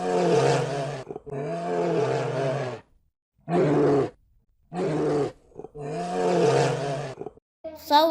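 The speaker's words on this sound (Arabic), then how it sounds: "صوت الدب،" A bear roars and groans in five long, loud, deep calls separated by short silences, close and alone, with a brief burst of speech at the very end.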